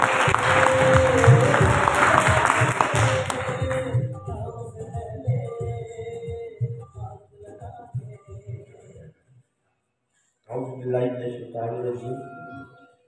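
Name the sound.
applause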